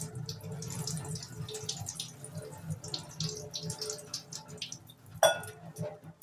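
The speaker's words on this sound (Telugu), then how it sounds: "సో వాటర్ని ఇలా వీటి మీద పోసేయండి" Water poured over flattened rice (poha) for upma, a quiet trickling splash with faint dripping and a small clatter near the end, heard close with no talking.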